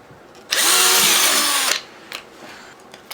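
A power drill drives a machine screw into a potentiometer bracket on a 737 yoke pitch axis assembly, giving one loud, steady whir of about a second that stops abruptly, followed by a few faint clicks.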